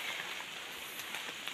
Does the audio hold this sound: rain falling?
yes